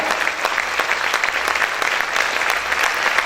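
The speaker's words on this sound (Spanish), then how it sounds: "Aplaude fuerte a tu Dios en esta hora." Steady, dense applause from a large church congregation during a worship service fills the whole stretch, rhythmic and continuous at moderate volume.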